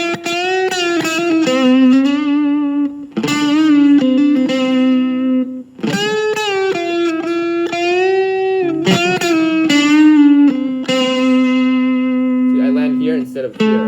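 Distorted electric guitar plays a pentatonic scale in short phrased runs, each note bending and sustaining with a bright, gritty tone, loud and close with brief pauses between phrases.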